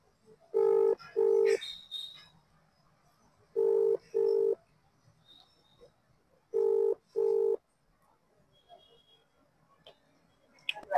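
A phone call being placed gives three pairs of steady electronic ringback tones, each pair a pair of short bursts, with quiet gaps between them and faint background noise.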